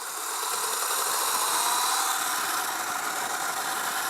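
An EBMX 72V electric bike pulls away under throttle, giving off a steady, fairly loud whine and rushing hiss with a faint rattle that holds evenly throughout.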